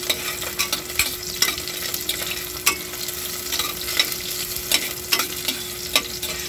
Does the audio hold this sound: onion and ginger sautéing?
yes